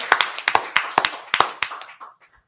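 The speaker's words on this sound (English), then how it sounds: "Clap it up." A small group claps hands roughly a dozen times in a quick, slightly uneven burst that tapers off over about two seconds, close and loud with no talking.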